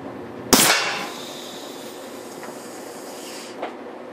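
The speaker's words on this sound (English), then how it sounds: "Another shot with another round ball at the same firing pressure." A homemade big-bore air rifle fires a round ball: one sharp, loud report near the start, followed by a trailing hiss that fades out, then a faint tick a few seconds later.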